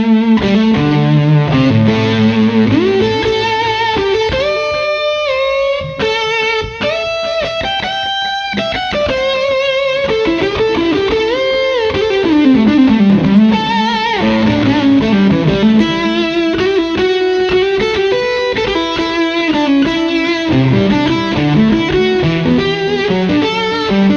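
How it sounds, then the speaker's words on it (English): Electric guitar played through a Fuzz Face fuzz pedal, thick saturated tone with sustained chords and melodic lines, loud and continuous with no talking. "I can still retain the fuzz tone of the fuzz face itself just using a loop"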